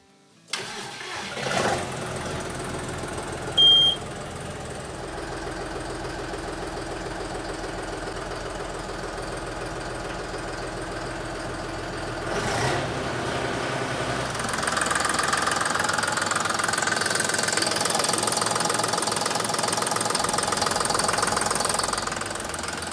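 A John Deere 5080E tractor's three-cylinder turbo intercooled diesel cranks over with a few short bursts, catches, and settles into a steady close idle, then rises to a louder, rougher run near the end, with no talking.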